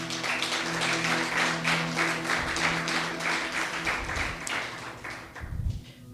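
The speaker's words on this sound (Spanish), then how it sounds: "Un aplauso para el Señor." A church congregation applauds, a steady wash of clapping throughout, with a low sustained hum underneath and a few thumps near the end.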